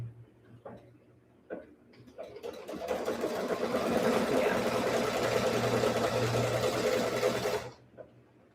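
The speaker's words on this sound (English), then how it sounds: "Stitch the trimming and then the placement line." An embroidery machine stitching trimming, a steady rapid mechanical whirring and ticking that runs for several seconds before stopping, preceded by a few isolated clicks and a low hum.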